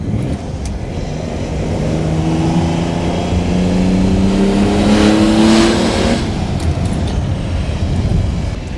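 A Lamborghini Jarama GTS engine revs hard through a tunnel, the rising multi-harmonic growl building to a loud peak then dropping back, echoing and continuous.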